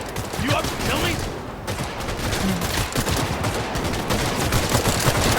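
Rapid gunfire in Cyberpunk 2077 near an abandoned farm, bursts of shots rattling over a busy battle din while voices talk underneath.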